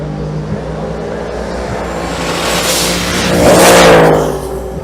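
Drag racing cars at Twin Cities Raceway in Monroe, Louisiana, including an 1988 Camaro launching down the strip, a loud engine roar swelling to a peak as the cars pass close by, then fading.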